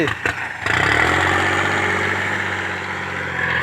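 A small 36 hp turbo farm tractor engine, struggling in deep mud, sputters briefly, then settles into a loud, steady nearby idle with a hum that lasts to the end.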